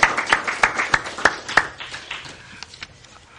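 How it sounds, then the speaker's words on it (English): An audience at a 92NY evening event claps, starting with a burst of sharp, distinct handclaps that thin out and fade to quiet within a few seconds. "Let's give a round of applause to Dr. Goodman, a true American hero."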